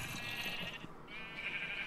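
A single Minecraft sheep bleats in a short, wavering cry, fairly quiet and alone, with a faint hiss behind it.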